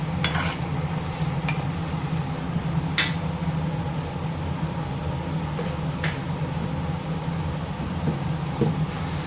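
Prawn thokku masala is stirred in a pan, a steady sizzle running underneath while a spoon scrapes the metal in scattered sharp clicks and taps, with no voices.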